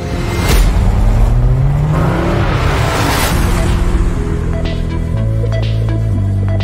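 A 2025 Renault Rafale hybrid SUV with a 300-horsepower E-Tech hybrid engine and 4x4, driven in sport mode: a loud, close engine note rises and falls through revs and gear changes, steady and uninterrupted.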